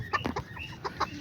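Chickens, the hen mother of a blue rooster among them, cluck in a few short bursts close by in a backyard flock.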